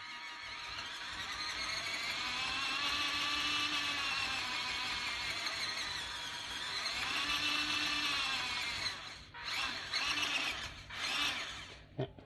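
An RC scale car's electric motor and speed controller whine steadily, rising and falling in pitch as the throttle is worked, with a few clicks and knocks near the end.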